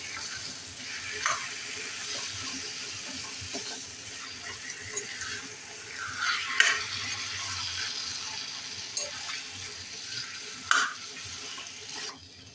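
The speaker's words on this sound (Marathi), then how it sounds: "आता हे छान परतून घेऊया" Marinated chicken with turmeric, salt, ginger-garlic paste and lemon juice sautéed for Malvani chicken curry, a low continuous sizzle with occasional scraping stirs, close and fairly quiet, no talking.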